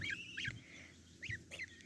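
Two small goslings call on a farmyard, giving a few high, thin rising peeps in short bursts, close and fairly faint, with no talk over them.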